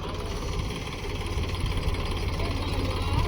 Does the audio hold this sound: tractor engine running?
yes